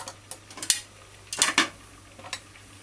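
Knife scraping and peeling the skin off a sweet potato, heard as a few sharp, close scrapes in short bursts separated by quiet gaps, with no talking.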